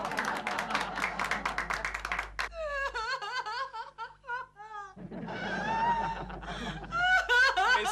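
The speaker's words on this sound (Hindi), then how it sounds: "तालियां।" A sitcom studio audience claps in quick, crisp strokes mixed with laughter for a couple of seconds, then stops as people begin talking.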